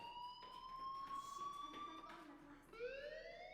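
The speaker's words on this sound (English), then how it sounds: "Hey, do you hear that fire alarm?" The Life is Strange video game sounds a fire alarm in a school, a loud electronic tone that rises slowly and then jumps in pitch, with faint background noise and no clear speech.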